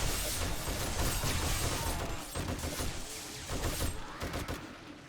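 Rapid gunfire while shooting downward at a horde in 7 Days to Die, dense overlapping bursts of shots with sharp cracks, loud and continuous, dipping briefly midway before resuming, no voices.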